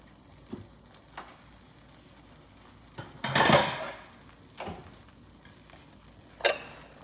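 Plates and dishes being taken out in a home kitchen: a few scattered ceramic clinks, then a louder clattering burst of stacked dishes, followed by more separate knocks and clanks.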